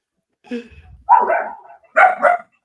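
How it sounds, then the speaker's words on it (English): A dog barks close and loud in a few quick bursts, a softer whine-like yip first and then two sharper barks, heard alone against a quiet background. "And whoever that dog is, clearly agrees."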